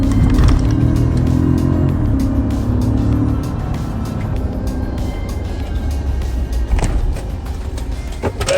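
A GMC Yukon truck brakes repeatedly to bed in new brake pads, heard from inside as a steady engine and road rumble with tire noise, a few clicks and a brief squeal near the end; no one talks.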